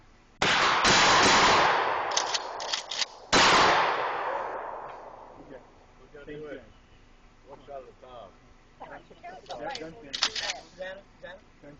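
Two loud shotgun blasts from a salute volley at a memorial, about three seconds apart, each ringing out and decaying, followed by people talking quietly.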